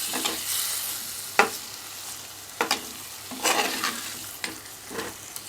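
A steady sizzle of masala frying in oil in a pan for Kerala-style egg roast, broken by a few sharp scraping stirs at irregular intervals, close and moderately loud.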